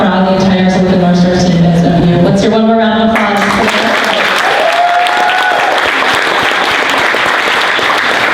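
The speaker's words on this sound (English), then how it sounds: "Let's hear one more round of applause." A crowd at a 2016 tech student demo day breaks into loud, full applause after a few seconds of voiced, tonal sound. The clapping then continues as a dense, steady roar to the end.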